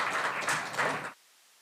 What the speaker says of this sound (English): I will give you certainly a round of applause.